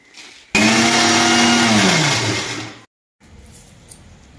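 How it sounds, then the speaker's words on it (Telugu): Mixer grinder blending raw mango pieces for mango and dried red chilli pickle: a loud, steady motor whir starts abruptly, winds down and stops, followed by quieter faint rattling. "ఇప్పుడు ఇంకోసారి మూత పెట్టుకొని ఇంకోసారి వేసేద్దాం మిక్సీకి"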